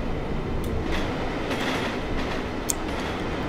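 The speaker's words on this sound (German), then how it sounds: "Auch diese schönen Schienenstöße, die man sich hier noch hören kann" Steady rolling rumble of a Deutsche Reichsbahn BR 243 electric locomotive hauling an East German passenger train in a train simulator, with faint rhythmic clicks from the rail joints over a continuous close wheel noise.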